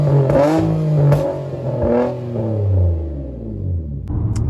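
A car with an aftermarket exhaust revs hard nearby, its engine note climbing and falling in repeated sweeping pulls with a throaty, rumbling tone.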